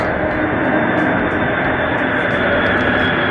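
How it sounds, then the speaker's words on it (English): An airplane passes overhead as a loud, steady broadband roar with a constant droning hum and no voices over it. "I hear the airplane flying over us."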